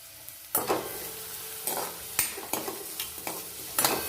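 Chopped onion is stirred and sautéed in ghee with garlic in a pan, giving a sizzling hiss and several distinct scraping stirs in bursts, heard up close without talking.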